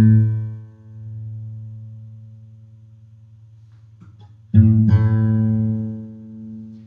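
Two guitar strings are plucked and left ringing together while one is tuned toward the other's pitch; a steady sustained tone decays, then both strings are struck again and ring loud and clear alone, now at the same note.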